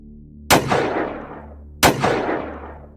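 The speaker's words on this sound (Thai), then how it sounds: "เสียงปืนในมือเจ้าแดงก็ได้ระเบิดขึ้นสองนัด" Two sharp, loud gunshots ring out about a second apart, each followed by a long echoing tail.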